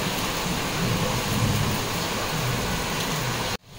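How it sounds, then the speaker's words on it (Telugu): Steady rain pours down with rumbling thunder mixed in at a home in India, loud and continuous before cutting off abruptly near the end. "ఆ తర్వాత ఇక్కడ వర్షం పడుతుంది"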